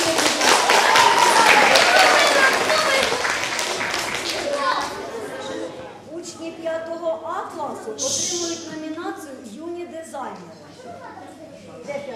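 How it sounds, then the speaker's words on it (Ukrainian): Audience applause rings out in a school hall during a flower festival at Magdalynivka secondary school, a dense burst of clapping that fades after a few seconds as a voice starts talking. "Аплодисменти!"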